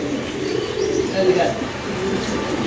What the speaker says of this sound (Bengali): সবাই ফেন্সি আইটেম কবুতর, আচ্ছা। আনকমন কবুতর।